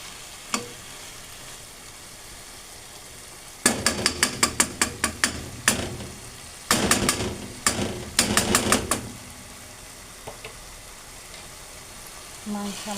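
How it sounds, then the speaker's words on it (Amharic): A spoon stirs tomato-based food in a pot, a quiet lead-in giving way to bursts of quick clattering scrapes and knocks against the pot, then trailing off to near silence. "ማንኪያ ማማሰል ደስ ይለኛል።"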